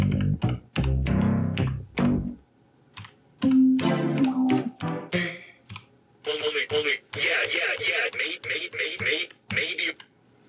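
A rapid series of punchy electronic drum and sample hits on a Teenage Engineering EP-133 sampler's pads, some with sung or spoken vocal snippets, triggered in uneven bursts with short pauses between.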